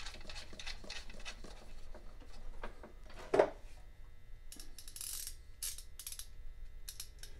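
A ratchet clicks quietly while tightening a nut on a Snapper mower deck, with faint mechanical ticks and one sharper clank in the middle, heard close and alone.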